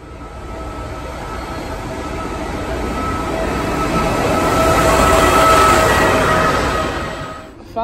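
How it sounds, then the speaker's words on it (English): Steady train noise at an Italian railway station, a deep rumble swelling as a train passes close by, then fading near the end. "So we are at the train station."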